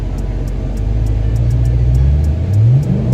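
Car engine held at launch control with the accelerator floored, a loud, close low rumble that climbs in pitch toward the end, with a faint periodic ticking above.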